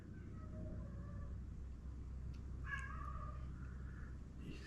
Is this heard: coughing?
no